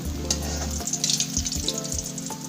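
Bajra tikki fry in hot ghee with a busy crackling sizzle, close and continuous, with a few soft scraping stirs in between.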